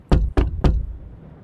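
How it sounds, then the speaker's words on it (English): Three sharp, evenly spaced knocks on a door, close and loud, in quick succession, then a brief quiet decay. "I hear a knock at the door."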